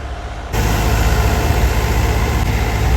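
A New Holland 850 tractor engine running steadily, a loud, constant low rumble that jumps in level after a brief quieter start and holds without pause.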